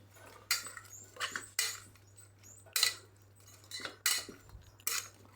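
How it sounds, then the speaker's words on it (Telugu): Spoon clinking against a bowl while stirring yogurt, about seven sharp scraping clinks at an irregular pace, close by and clear over a steady low hum. "సగం వేసుకున్న తర్వాత పెరుగు మనం ఇప్పుడు మిక్స్ చేసుకోవాలి."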